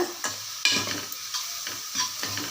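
Onions sauté in a pan, soft sizzling broken by several scraping stirs of a spatula at irregular intervals, close and fairly quiet with no voices.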